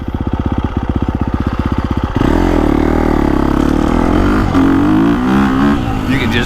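KTM 350 dirt bike engine in its smoother map 1, a pulsing idle that rises into a strong, steady revving drone as the throttle rolls on, loud and close.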